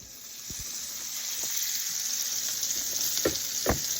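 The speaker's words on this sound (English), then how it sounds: "I'm gonna do the rest of my pieces of meat and get those going in the pan" Cubed steak pieces sizzling steadily in a frying pan, a continuous bright hiss with a few soft knocks and scrapes of the meat being moved.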